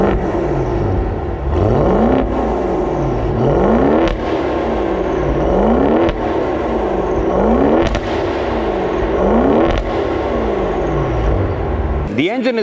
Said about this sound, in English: that engine does also translate to one of the best sounding exhaust systems I've ever heard in a stock car